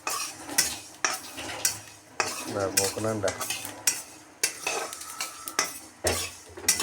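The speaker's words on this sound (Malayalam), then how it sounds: "ഉലുവയും കൂടി ഇട്ട് അങ്ങോട്ട് വറുക്കാം" Fenugreek seeds roasting in a pan while a spoon stirs, with repeated scraping strokes against the metal and a faint sizzle, punctuated by a brief spoken remark.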